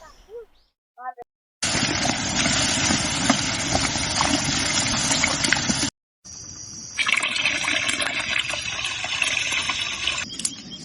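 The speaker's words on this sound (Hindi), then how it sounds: "अब हम लोग डालने जा रहे हैं पानी।" Outdoors in a jungle, water pours steadily into a cooking pot of spiced masala for village-style Maggi noodles, a loud splashing stream that stops briefly and then resumes.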